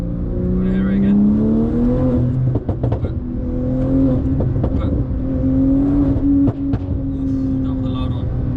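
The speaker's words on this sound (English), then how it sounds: "the pops and bangs are literally amazing" An ES900-tuned 1050 bhp Porsche 992 Turbo S with a full Techart kit revs and winds down, its exhaust letting out a string of sharp pops and bangs over a droning engine, with a voice talking over it.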